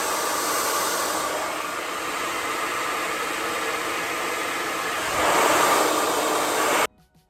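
A hair dryer blows steadily to dry glue on a lace wig, a loud, even airy roar that rises slightly near the end before cutting off abruptly.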